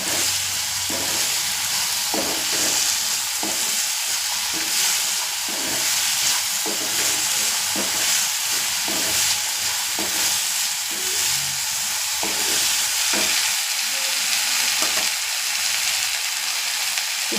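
Ginger garlic paste and spices sauté in a pan with salt, a continuous close sizzle broken by repeated rhythmic scrapes and taps of a stirring utensil.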